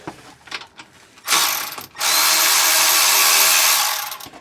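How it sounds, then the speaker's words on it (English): Electric ratchet spinning bolts out of a Ford 7.25 rear end, with a few short clicks and bursts before a sustained loud whirring run of about two seconds, close up with no voices. "I prefer this electric ratchet just because it's a little bit easier"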